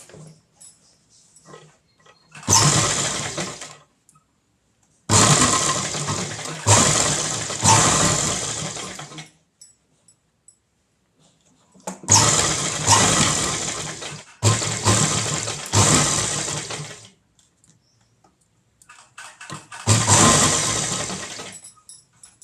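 A sewing machine stitches a side zip onto a ready-made blouse in about six loud, close bursts of rapid whirring, each lasting a second or two and separated by short quiet pauses.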